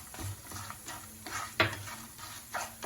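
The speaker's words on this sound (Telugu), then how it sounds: "ఆ జీడిపప్పును కూడా వేసి వేపుకోవాలండి" Cashews fry in a pan for hotel-style pongal while a spoon stirs them, giving a soft steady sizzle broken by several close scraping stir strokes and one sharper clink.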